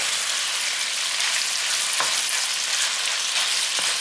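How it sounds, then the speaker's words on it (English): Steak browns in a pan with butter and bacon grease over medium heat, giving a steady, close sizzle with a couple of brief utensil scrapes. "So turn your meat, let it brown on the other side."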